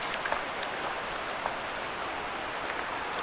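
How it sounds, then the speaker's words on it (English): Light rain falling in the Quinault River rainforest, a soft steady patter with a few scattered louder drops ticking on leaves, quiet and continuous with no talk. "I can't feel it, but it's kind of raining."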